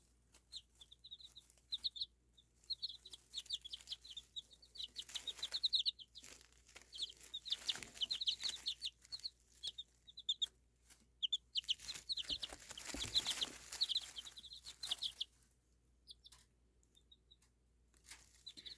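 Young hens cluck and peep in quick, chattering bursts nearby, with occasional wing flapping and scuffling, rising and falling throughout and with no voices.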